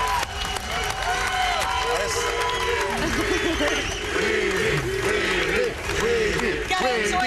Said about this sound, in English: Gotta enjoy that cheer for a minute.